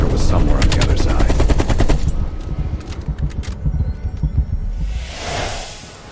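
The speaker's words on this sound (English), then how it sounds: "At the fork, you followed the road right toward the sound of gunfire." Rapid gunfire in Call of Duty: Black Ops Cold War, with dense automatic bursts for about two seconds, then scattered single shots and a fading whoosh, loud and close.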